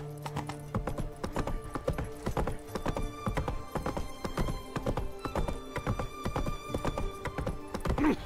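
Hooves of the horse Roach clip-clop steadily in The Witcher 3, a dense, even rhythm of close hoofbeats over a busy game soundscape, with a brief whinny-like sound near the end.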